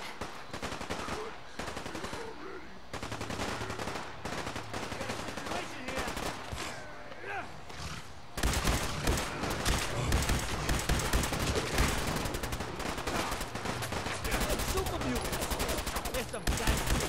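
Machine gun and rifle fire in the video game Fallout 4, dense rapid bursts that grow louder and almost continuous halfway through, with voices underneath.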